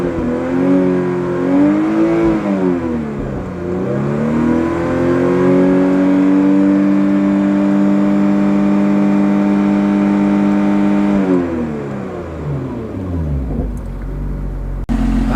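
A stock Lotus Evora S engine in sport mode revs up from idle and holds near 6,000 rpm, a loud, sustained rising howl with steady harmonics that drops back to idle at the end, with no talking over it.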